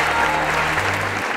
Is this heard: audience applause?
yes